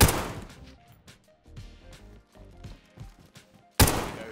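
Two sharp gunshots in DayZ Standalone, one at the very start and a louder one near the end, with softer thumps and footstep-like knocks scattered between them.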